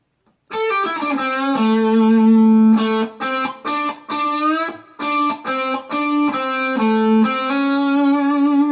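An electric guitar plays a distorted blues phrase of sustained bent notes and short stabs, loud and alone with no talking.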